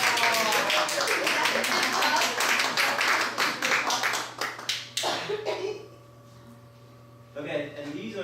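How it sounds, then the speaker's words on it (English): Applause breaks out at a school district facilities and finance meeting: dense, close hand claps for several seconds that thin out and fade, followed by quieter room sound with voices talking. "So if you want to do an applause now."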